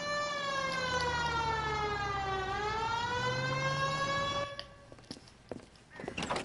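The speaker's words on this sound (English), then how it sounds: "Hit the siren." An LAPD police car siren wails in the video game L.A. Noire, loud and steady, sweeping down and back up for several seconds before cutting off into a few dull thumps and faint background noise.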